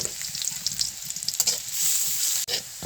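Chopped garlic and onion frying in hot oil give a steady, close, bright sizzle with small stirring scrapes, briefly interrupted near the end, no voices.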